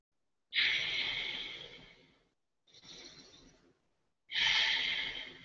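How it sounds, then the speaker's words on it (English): Deep breaths during a yoga lunge stretch: two long, loud airy exhales with a softer inhale between them, close up with no talking. "Take a few deep breaths here."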